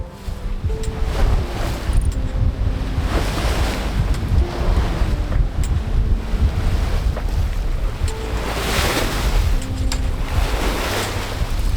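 Wind and breaking waves surge around a sailboat making just under 6 knots on an open-sea crossing, a steady rushing wash with swells building and fading and wind buffeting the microphone throughout, with no voices.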